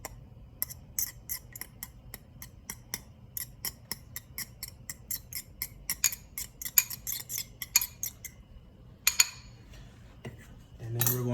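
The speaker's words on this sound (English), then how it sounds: "we're going to take our fork and break the yolks by stirring them" A metal fork clinks and taps sharply against a bowl while stirring and breaking egg yolks, a series of quick irregular strikes over several seconds.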